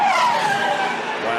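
A Trans-Am race car with a failed engine skids off the track, a loud sustained tire squeal and engine roar sliding in pitch under a commentator's voice.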